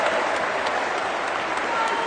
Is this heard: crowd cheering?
yes